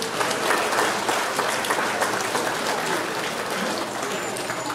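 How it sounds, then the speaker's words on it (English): An audience at a national exam results ceremony in Trinidad and Tobago applauds family members, a loud, dense clapping that runs throughout, with faint voices mixed in underneath. "So give them a round of applause too."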